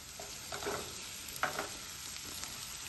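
Chopped bottle gourd frying in hot oil with a steady low sizzle and a few soft stirring scrapes, close and quiet.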